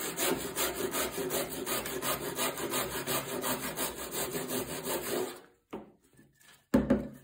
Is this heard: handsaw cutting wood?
yes